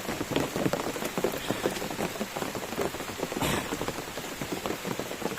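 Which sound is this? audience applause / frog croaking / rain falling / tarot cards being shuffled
rain falling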